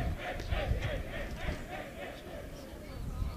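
Crowd noise at a high school baseball game, with a steady murmur and rumble of spectators running continuously and fairly evenly throughout, rising and falling slightly with a few cheers.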